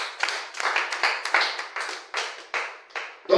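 Church congregation clapping together to acclaim the Lord, a rapid burst of roughly a dozen loud claps in uneven rhythm that fills the room, with no other sound over it.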